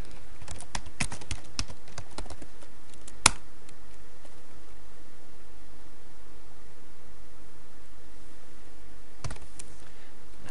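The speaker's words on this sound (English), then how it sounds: "we are going to type in a few commands now" Commands typed on a computer keyboard: a quick flurry of sharp key clicks at the start, a single louder click a few seconds later, and another short burst near the end, with quiet room noise between and no talk.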